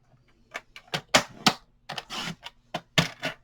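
Scissors snipping through scrap paper for a vintage Halloween wooden memory dex holder craft, a run of about a dozen crisp, close cuts in an irregular rhythm, with no talking.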